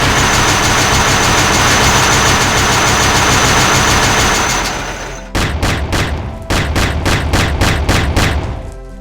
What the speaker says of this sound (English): A regular grenade. A minigun!